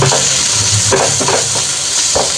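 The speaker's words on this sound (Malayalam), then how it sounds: "അതിലേക്ക് നമുക്ക് കുറച്ച് മുളക് പൊടി കൊടുക്കാം അതുപോലെ കുറച്ച് കുരുമുളക് പൊടി അതുപോലെ കുറച്ച് മഞ്ഞൾപ്പൊടി ഓക്കെ ഇതെല്ലാം കൂടി നന്നായി മിക്സ് ചെയ്യാം" Egg masala with chilli powder, pepper and turmeric being stirred in a pan, a steady sizzle of frying under scattered scraping spoon strokes, close and continuous with no talking.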